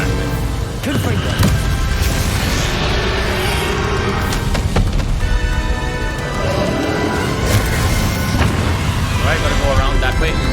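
A Confringo fire spell explodes in Hogwarts Legacy with a dense, loud, continuous roar of booming blasts and crackling effects that fills the whole stretch at close range.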